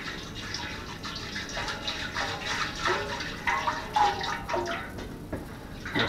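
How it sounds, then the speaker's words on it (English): Water sloshing and swirling around inside a metal pan while making mead, a close, splashy churning that surges in uneven waves. "Get a bit of water and swirl it round the pan."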